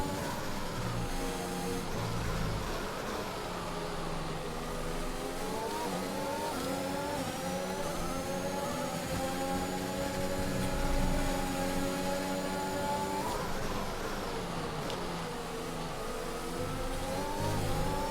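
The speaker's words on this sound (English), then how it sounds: "Wheel-to-wheel racing with that McLaren of Lando Norris" F1 race car engines scream and rise in pitch through repeated upshifts in the F1 2021 racing game, a continuous loud whine of revving wheel-to-wheel at the Portuguese Grand Prix, with no talking.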